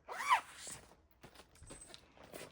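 A zipper bag holding cross-stitch patterns and threads is unzipped in one quick, close pull, followed by soft handling rustles.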